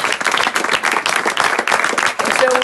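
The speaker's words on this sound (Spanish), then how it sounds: "Dale un aplauso." A church congregation at a prophetic service in Puerto Rico claps together in dense, steady applause that fills the room from start to finish.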